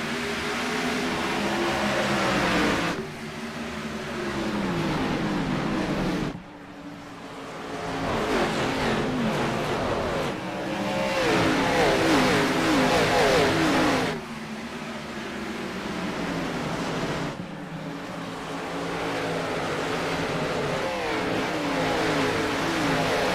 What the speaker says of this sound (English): The pace car left-hand turn off the pit lane, and we are green here at Richmond.